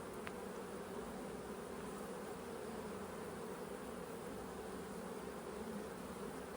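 Honey bees hum steadily from an open hive box during a beekeeper's inspection, a faint, even drone that holds unbroken from start to finish with no voices.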